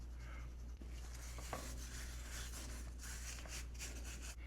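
Hands rubbing and spreading dry brine over a raw pork belly, quiet close scuffing and patting strokes with a low steady hum underneath.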